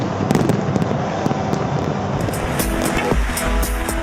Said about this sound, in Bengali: 12 মিনিট ধরে ফোটানো হয় 19টি নৌকা বোঝাই আতশবাজি